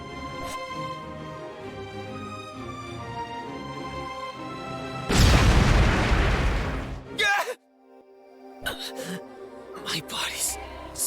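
A fire magic crystal explodes in the Re:ZERO fantasy game, a sudden loud broadband blast that rolls on for about two seconds over music and game sounds, then cuts to near silence before faint effects return.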